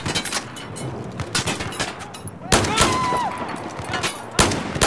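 Battlefield 4 gunfire on Xbox One, loud bursts of rapid automatic shots with sharp cracks and a few heavier blasts, dense and close, with brief gaps between volleys.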